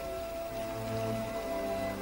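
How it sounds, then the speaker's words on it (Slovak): Steady rain pattering on a surface under a sustained tonal musical drone, even and continuous at moderate level, with a louder burst at the very end. "Prší."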